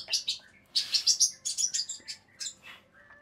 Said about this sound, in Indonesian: kebetulan di sebelah saya ada, ada burung nih yang notabene nya ini burung engkel